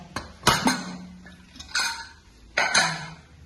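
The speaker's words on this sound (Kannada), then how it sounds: "ಓಪನ್ ಮಾಡ್ತೀನಿ ನೋಡ್ರಿ ನಾನು ಕುಕ್ಕರ್." A pressure cooker of chicken sambar is opened, giving three sharp metallic clanks of lid and pot spaced about a second apart, close and clear with no talk.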